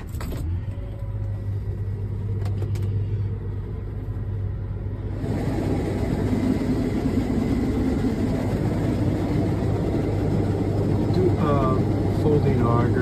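A 2023 Case IH 8250 combine's engine fires up and settles into a loud, steady low rumble and hum that continues throughout, with mechanical whine layered on top.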